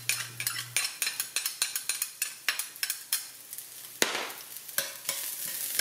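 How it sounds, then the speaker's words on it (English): Garlic sizzles gently in a hot cast iron skillet while a utensil scrapes and taps the pan in a quick, regular rhythm, loud and close. "This is about hot enough, so I'm going to put my garlic in there to get it started."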